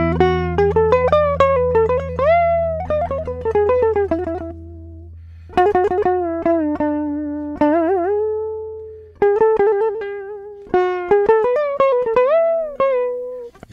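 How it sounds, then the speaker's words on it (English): Electric guitar playing a Turkish Hijaz makam phrase with bent microtonal inflections and sliding pitches, clear sustained melodic notes in several phrases over a low droning tone, close and fairly loud with no talk. "So this is a Turkish version of this makam called Hijaz."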